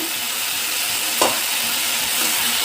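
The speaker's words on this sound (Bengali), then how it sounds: "পেঁপেগুলোকে ভালো করে আমি এখন মশলা দিয়ে কষিয়ে নেব" Papaya and potato pieces being stir-fried with spices for a Bengali rohu fish curry, a steady soft sizzle and frying hiss with one brief scrape of stirring partway through, close and continuous.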